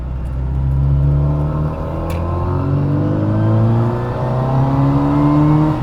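A classic Mini Cooper engine revs and accelerates up through its gears, loud and close, with rising whine and rumble and no talking.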